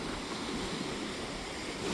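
Ocean waves breaking on a windy Portuguese beach, a steady, full roar of surf and wind that is loud and unbroken, with no voices.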